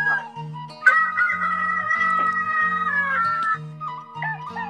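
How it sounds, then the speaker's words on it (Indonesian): A rooster crows loudly and repeatedly in a staged legend performance, long drawn-out calls sounding over a regular pulsing low beat, close and clear with no talk. "Ayam itu berkokok lantang berulang-ulang."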